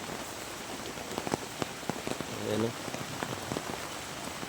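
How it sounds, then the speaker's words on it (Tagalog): Rain patters onto ground and leaves in a farm field among banana plants, a steady hiss with sharp close drop hits, while a voice speaks briefly in the middle. "Abutan na tayo ng ulan."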